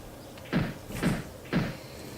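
Three evenly spaced knocks on a wooden door inside a video game, each a firm, close thud about half a second apart, with no voices over them.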